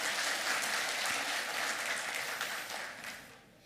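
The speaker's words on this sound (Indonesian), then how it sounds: "Ya toh, tepuk tangan." Audience applause at a government event in Manado where business permits are handed to small enterprises, a dense steady clapping that holds strong then thins and fades toward the end.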